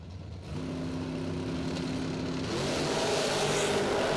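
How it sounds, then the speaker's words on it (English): Two drag race cars launch side by side in a heads-up race down the eighth mile, a loud sustained engine roar that swells and rises in pitch as they accelerate away, with no talk over it. "Going down the 8th mile."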